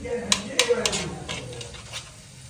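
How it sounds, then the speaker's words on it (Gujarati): Pav toasting on a street-food griddle with ghee and butter, a soft sizzle under a few sharp metal clinks and scrapes of a spatula, with a voice talking alongside. "હવે પાઉં શેકવાનું છે"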